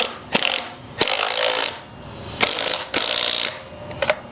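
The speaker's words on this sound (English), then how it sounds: "then you can come back with your wrench or your impact" Wrench ratcheting lug nuts tight during a tire change on a Gspace GS car: several quick bursts of close, loud metallic clicking, each stroke lasting about half a second, with short pauses in between.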